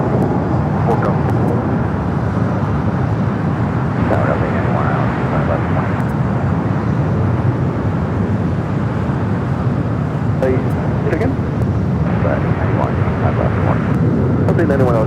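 Jet airliner on its takeoff roll down runway 25 right at Los Angeles International Airport, a steady loud engine roar that holds throughout, with radio-style voices talking over it.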